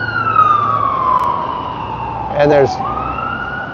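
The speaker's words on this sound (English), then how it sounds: "this constant ambulances and police running around here" A wailing emergency siren sweeps through busy city street noise in a place of eight million people, steady and fairly close, while a person talks over it.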